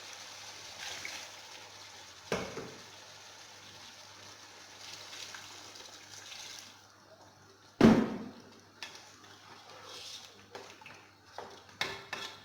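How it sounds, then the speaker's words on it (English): A little water is poured into a pot of pre-boiled kienyeji chicken and tomato stew, a soft steady hissing trickle under kitchen clatter, with a couple of sharp knocks from the pot. "I'm just going to add a little water, just a little, to enable the tomatoes to cook well."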